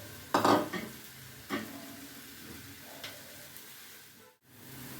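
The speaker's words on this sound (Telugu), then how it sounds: "ఇది ఇలా వేయించేసేసుకుని సిమ్లో పెట్టి వేయించుకోవాలి." Tamarind leaves frying in a pan on low heat for pickle: a soft, continuous sizzle close by, broken by a few scraping stirs, with a brief gap near the end.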